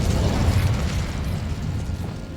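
Incendio fire spell cast in Hogwarts Legacy, a loud, close rushing whoosh of flame with a rumbling low burst that fades gradually over a couple of seconds.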